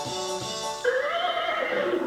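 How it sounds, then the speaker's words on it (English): A horse neighs loudly and alone, a long whinny that shifts pitch partway through and trails off over about two seconds. "Yes, that is the sound of the horse."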